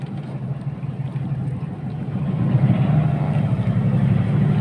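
Engine of a fishing boat out tuna fishing, a steady low rumbling drone that grows louder partway through as the engine is run in reverse, with no talk over it.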